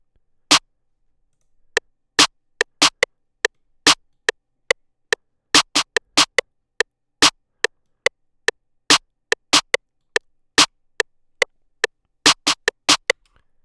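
A programmed beat of layered snare and clap samples, dozens of crisp, sharp hits in a rapid, uneven pattern, some louder accents standing out among quieter ones, with nothing else between them.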